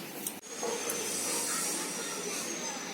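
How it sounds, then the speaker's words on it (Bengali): Rolled puchka dough for Kolkata-style pani puri dropped into hot oil, a sharp plop followed by loud, continuous hissing and bubbling frying that stays steady and close, with no voices. "লুচির মতো ফুচকাটাকে বেলে রেখেছিলাম সেটাকে ছাড়ছি তেলের মধ্যে"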